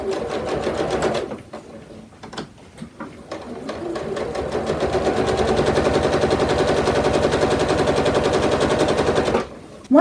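A sewing machine stitches straight quilting lines through a quilt sample with batting, using a walking foot; a steady, dense rapid stitching rattle builds after a few short bursts and runs loud and close until it stops near the end.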